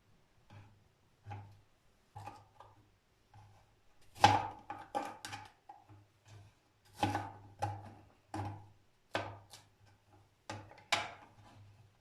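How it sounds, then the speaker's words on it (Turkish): Knife chopping fresh fruit such as apple and peach on a board while preparing a fruit plate, a series of sharp, close, rhythmic knocks in short bursts with pauses between them. "Bazısını daha farklı şekillerde de doğrayacağım."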